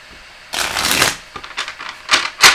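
Tarot cards are shuffled close up, a longer riffling burst followed by several quick flicks and shuffles, with no voices.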